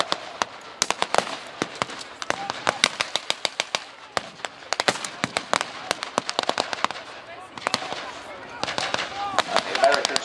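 Battle re-enactment at the Victory Show, with rapid loud cracks of rifle and machine-gun fire in dense volleys and scattered single shots, some near and some farther off. Someone narrates over the shooting.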